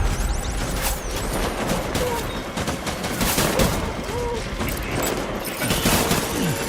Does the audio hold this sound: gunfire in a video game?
yes